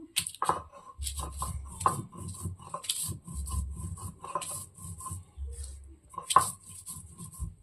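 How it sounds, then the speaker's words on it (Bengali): Whole dried chillies being ground on a grinding stone, repeated rough rubbing and scraping strokes with low grinding rumbles and sharp taps, close and rhythmic. "এখন আমি গোটা লঙ্কা বেটে নেব।"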